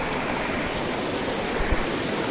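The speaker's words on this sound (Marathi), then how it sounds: "इथून पाण्याचा धबधबा आहे अद्भुत" Continuous rushing roar of the Somnath waterfall, a year-round fall in Mul taluka, loud and steady and nearby, with a couple of faint low thumps and no speech.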